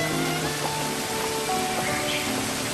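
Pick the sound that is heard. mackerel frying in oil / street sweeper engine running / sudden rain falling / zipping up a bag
sudden rain falling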